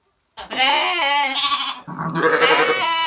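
Lambs bleating in a village animal shelter after a night of heavy snowfall: two loud, close, wavering bleats follow one another, with a short gap between them.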